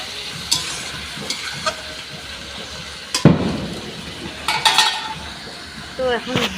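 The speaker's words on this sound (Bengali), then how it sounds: "এই যে মাংসগুলো ধুয়ে রাখা মাংসগুলো আমি এখানে অ্যাড করে দিলাম" Washed meat frying in a pan, hissing sizzle with sharp clanks and scrapes of a spatula against the pan, a burst of sizzle midway, a voice talking over it.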